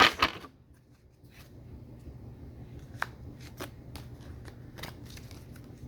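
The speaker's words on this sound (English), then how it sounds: "One more shuffle" A quick riffle of tarot cards being shuffled at the start, followed by soft intermittent card taps and slides against a low background hum.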